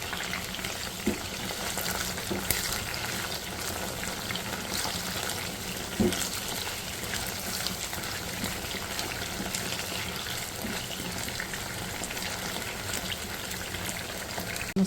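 Chicken pieces fry in hot oil in a large wok, a dense, steady sizzle with crackling pops throughout and no voices over it.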